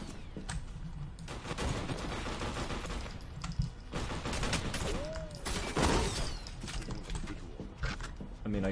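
Rapid assault rifle fire in F.E.A.R. Perseus Mandate, steady rattling bursts running almost the whole time, fairly close, with someone talking over the shooting.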